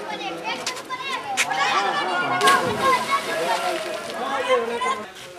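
Young children around ten to twelve years old leap from a height at a historic ghat into the swollen, flooded Ganga in Kanpur, and water sloshes and splashes repeatedly amid crowd chatter and someone talking over it.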